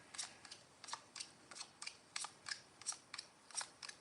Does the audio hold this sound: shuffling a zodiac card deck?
yes